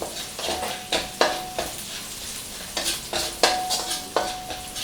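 Garlic and tomatoes sizzle in a hot pan while a utensil scrapes and stirs in repeated bursts, close up, with no talking.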